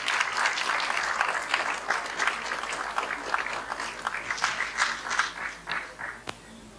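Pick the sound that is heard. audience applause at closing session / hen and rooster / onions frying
audience applause at closing session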